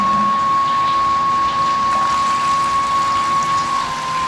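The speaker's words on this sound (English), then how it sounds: "So we're gonna cut off the element, start our whirlpool pump, and start our chiller." In an electric home-brewing setup for a hefeweizen, a whirlpool pump and wort chiller run right after the boil, giving a steady close mechanical hum with a thin, constant whine and a rushing, watery wash. No one speaks.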